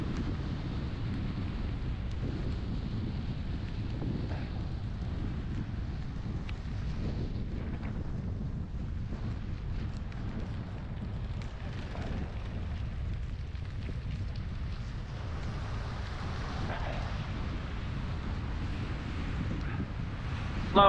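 Steady headwind roaring across the microphone during a wet Christmas Day bicycle ride from Penryncock toward Ynyslas, a continuous low buffeting rumble that stays constant throughout.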